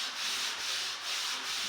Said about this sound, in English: So he is moving into the fine sanding and blending the rails